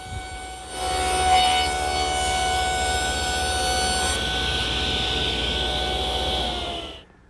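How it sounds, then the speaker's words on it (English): A table saw rips a bevel along the edge of a wood panel, a steady loud whine with the blade spinning up, holding through the cut and then winding down. "Now reset the fence to the final dimension and cut the other edge."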